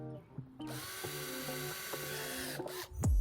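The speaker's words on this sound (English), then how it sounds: "I'm gonna just drill it in." A power drill whirs steadily for a couple of seconds while drilling into pallet wood, with a slight rise and fall in pitch, ending in a loud thump.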